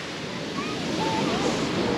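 Ocean waves surge and wash along a beach at Tayrona National Park, Colombia, a steady broad roar of surf close by with wind noise over the microphone.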